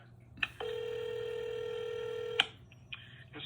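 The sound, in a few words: telephone call transfer tones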